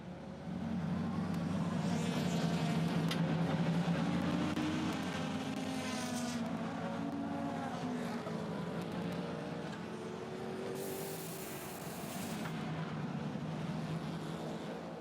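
An endurance race car pulls away from the pits after a driver change at the 2016 ENEOS 1006 km in Lithuania, its engine a thin, buzzing note rising and shifting through gears, fairly distant and faint.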